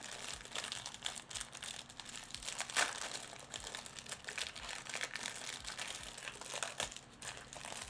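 Foil wrappers of Duskmourn collector booster packs for Magic: The Gathering crinkle and tear continuously at close range, with dense rustling bursts and a few sharper rips, no talking.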